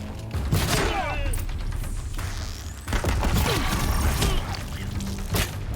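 Deathbringer war machines unleash machine-gun fire across a battle at a bridge in Horizon Zero Dawn, with rapid fusillades, crashes and screeching impacts in two dense waves and a brief lull between.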